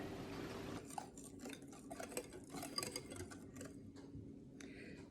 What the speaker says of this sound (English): Then give that a good stir.